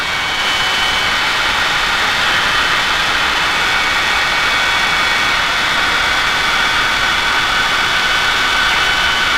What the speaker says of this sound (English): What do you think about this airplane?